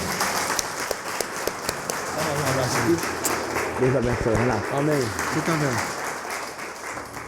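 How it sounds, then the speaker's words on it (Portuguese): Congregation applauding during a church worship service, steady broadband clapping running under nearby voices that speak and respond throughout. "Pode aplaudir o Senhor."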